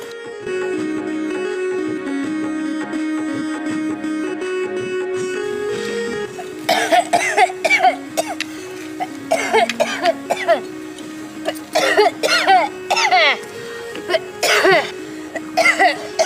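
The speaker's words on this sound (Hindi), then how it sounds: "अरे क्या हो गया दीदी को, इतना क्यों खांस रही है" A woman coughs repeatedly in short bursts over steady background music, the coughs loud and close, clustered in the second half.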